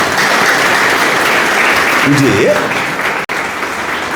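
A church congregation claps loudly and continuously, a thick wall of applause with a brief spoken voice rising over it partway through before the clapping carries on.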